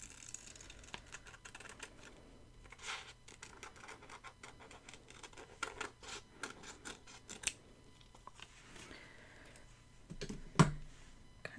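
Scissors snip and cut paper while a planner is decorated, a series of short crisp cuts and scratchy paper rustles scattered across the clip, close and fairly quiet, with one sharper click near the end.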